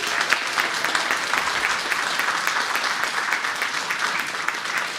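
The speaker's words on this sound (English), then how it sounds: "let's give our panelists and moderator a round of applause again" An audience at a climate action panel discussion and open house applauds steadily for the panelists and moderator, a dense sustained wash of many hands clapping at moderate loudness.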